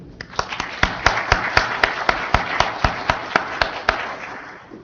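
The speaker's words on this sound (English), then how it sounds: "maybe we could just have a round of applause to congratulate Aaron on winning his ANRP award" Meeting-room audience at a research session clapping to congratulate an award winner, a moderate round of applause built from a few distinct, evenly spaced sharp claps standing out over a softer bed of scattered hands, fading out toward the end.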